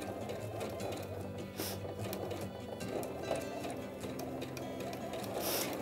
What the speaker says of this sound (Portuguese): Essa pecinha que eu tô costurando a máquina